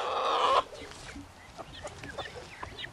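Small farm chickens cluck; a loud burst of squawking opens, then softer scattered clucks and calls follow close by.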